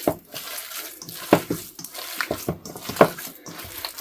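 Running water from a tap splashes and trickles into a basin in uneven bursts, fairly close, with small clinks and handling noises mixed in.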